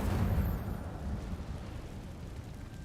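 A fiery whoosh of the Incendio fire spell in Hogwarts Legacy, a loud rumbling burst that swells at the start and then settles into a steady crackling roar, with no talk over it.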